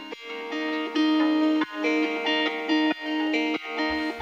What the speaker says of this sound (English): simple guitar playing. It sounds like this.